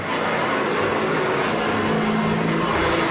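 A vintage Hoover vacuum cleaner motor runs loud and steady up close, a constant rough roar with a low hum and no break.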